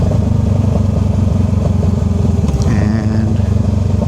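A motorcycle ridden by a new rider on a permit slows with the front brake and downshifts, the engine's loud throbbing drone holding steady, then shifting pitch as a gear changes partway through, close to the microphone.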